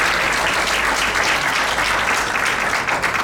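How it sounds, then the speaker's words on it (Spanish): A church congregation applauds in a sustained, dense burst of clapping that fills the space evenly from start to finish, with no voices rising above it. "¿Cuánto dan un fuerte aplauso al Señor?"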